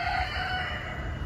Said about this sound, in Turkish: abi horoz yine başladı.